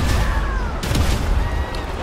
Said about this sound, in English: Okay, sticky bombs.